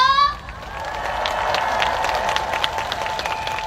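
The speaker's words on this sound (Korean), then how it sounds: "다 같이 박수 함성 질러볼까요?" A large outdoor concert crowd at a trot performance claps and cheers together, a dense sustained wash of applause with scattered shouts after a brief musical tone at the start.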